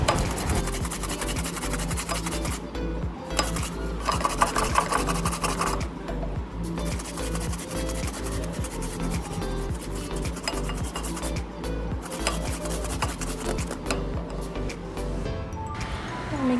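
Raw mango is chopped in a steady stream of rapid scraping, rasping cuts that stay fairly close and even, with brief pauses scattered throughout.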